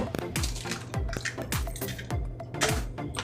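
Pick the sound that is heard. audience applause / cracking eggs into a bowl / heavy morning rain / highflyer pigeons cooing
cracking eggs into a bowl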